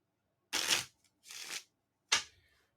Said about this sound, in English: is to shuffle all those cards back into the deck